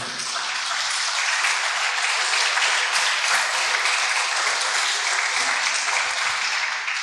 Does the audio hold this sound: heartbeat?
no